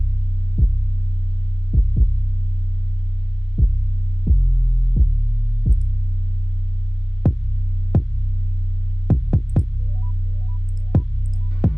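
Deep booming 808 bass hits in a Dirty South instrumental, sparse irregular thumps with long low sustain over a steady low drone, joined by short sharp sand-zap clicks, loud and close with no voices.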